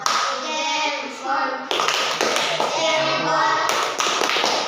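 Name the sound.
class clapping hands for group 2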